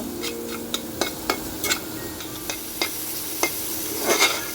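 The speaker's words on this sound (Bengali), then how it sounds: "চিংড়ি মাছটা আমি খুব ভালো করে ভেজে নেব।" Prawns fry in oil with turmeric and salt for a Bengali shapla (water lily stem) dish. A soft background sizzle runs under sharp, irregular clicks and taps of a spatula against the pan, close up and with no voices.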